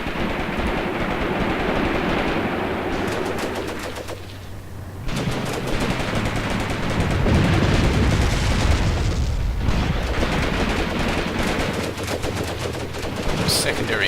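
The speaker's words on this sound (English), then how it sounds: "Secondary explosions from the second marder." Rapid bursts of video game gunfire crackle alongside heavy booms as a destroyed Marder vehicle cooks off in secondary explosions, loud and dense with a brief lull midway before the firing resumes.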